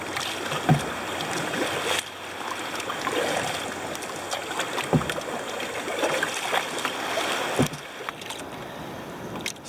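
A dugout canoe moves across open water under a kneeling paddler, with repeated splashy paddle strokes and a steady watery wash. Wind and ambient noise sit behind the strokes, and no voices are heard.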